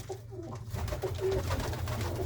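Long-distance flying pigeons cooing steadily in a loft, a soft, continuous throaty murmur at moderate distance with no voices over it.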